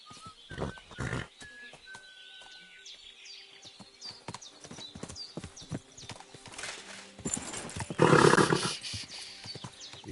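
Horse hooves clip-clop on a path in the video game Kingdom Come Deliverance 2, with a horse snorting and whinnying, steady hoofbeats running throughout and a louder burst of movement near the end.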